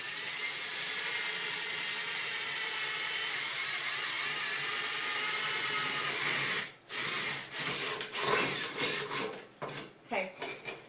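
A steady, grinding drilling noise runs for several seconds, then breaks into choppy scraping bursts and clatter as the bit bores through a thin metal can.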